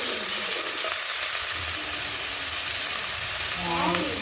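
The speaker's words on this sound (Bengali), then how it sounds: "দিয়ে দেবো আলু আর লাউ কাটাগুলো দিয়ে দেবো। এটা ভালো করে নাড়তে হবে।" Potato and bottle gourd pieces being stirred in a hot pan for lau dal, giving a dense, steady frying hiss with faint scraping of the spatula underneath.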